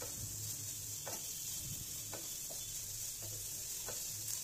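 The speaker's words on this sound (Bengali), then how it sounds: "একটু নুন দিয়ে দিলাম স্বাদ মতো নুন দিয়ে আমি আবার নাড়াচাড়া করে নেব।" Vegetables are stirred in a sizzling pan while making masala Maggi noodles, with a steady frying hiss and a few brief scraping strokes spaced through the clip, close and alone without talk.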